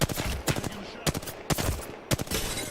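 Apex Legends gunfire cracking in four sharp bursts, each a loud broadband blast with quick rattling follow-ups, spaced roughly half a second apart over a steady game background.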